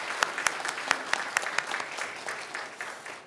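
A church congregation claps for the Miriam choir after a Sunday worship hymn, a handful of distinct sharp claps at first that thicken into a brief, quieter round of applause fading out.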